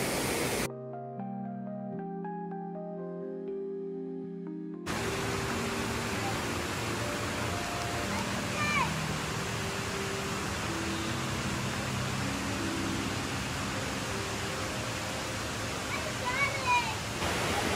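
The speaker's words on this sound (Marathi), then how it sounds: "तुम्ही बघू शकता कसा आहे हा झरा पाण्याचा" A rushing, babbling village stream flows steadily nearby in rainy weather, broad and continuous, with a brief musical passage near the start and faint bird chirps.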